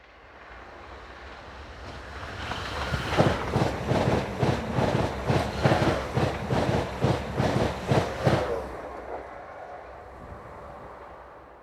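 A freight train passes on the Ipswich to Bury St. Edmunds line in England, building from a distant rumble to a loud rhythmic clatter of wagons over rail joints, then fading away.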